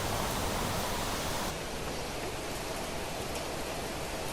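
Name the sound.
rain in the video game Planet Crafter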